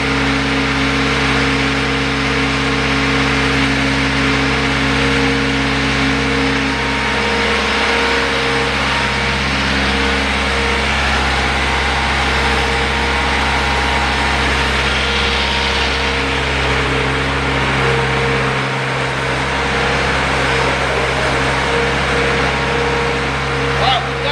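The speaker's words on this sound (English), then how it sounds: "Engage the pump, and we're going to pump slowly to get to the end of the discharge line." A Blastcrete RD6536 concrete pump attachment runs steadily as it pumps concrete slowly toward the end of the discharge line, giving a loud, constant engine drone and hum at close range with a voice talking over it.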